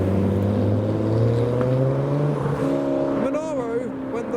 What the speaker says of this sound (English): It's a very loud Aventador